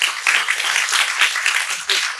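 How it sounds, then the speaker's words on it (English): Audience applause for a university speaker at a talk, a brief dense burst of loud clapping from a crowd, with a faint voice near the end. "So please give an applause for Ahmed Hassan Abdelaziz."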